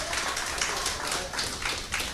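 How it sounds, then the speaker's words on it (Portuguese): A church congregation applauds in steady, dense clapping, loud and close, with slight swells in intensity. "Uma salva de palmas ao nosso Deus."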